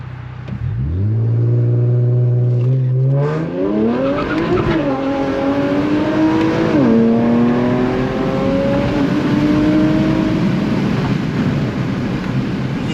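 An Infiniti Q60 launches hard across an intersection, its engine climbing through loud, sustained revving with gear shifts and tire squeal, close and continuous with no talking.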